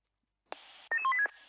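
Radio alarm tone from a fire-department dispatch center in the Emergency 4 game: a short run of electronic beeps and tone steps of shifting pitch, clear and close, with no talk over it.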